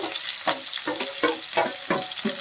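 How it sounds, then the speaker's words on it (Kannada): Green chillies and onions frying in oil for a lady finger (okra) curry gravy give a constant close sizzle, broken by regular scraping strokes of a spoon stirring the pan, with no voices. "ಅದ್ರ ಜೊತೆಗೆ 2 ಈರುಳ್ಳಿ ಕಟ್ ಮಾಡ್ಕೊಂಡಿದ್ದೆ ಅಲ್ವಾ, ಇದನ್ನು ಸಹ ಹಾಕ್ಕೊಂಡು ಚೆನ್ನಾಗಿ ಫ್ರೈ ಮಾಡ್ಕೋಬೇಕು."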